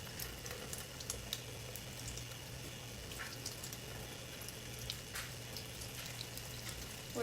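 Water trickles and splashes quietly out of an opening, a faint continuous gurgling flow with small crackling drips, no talking.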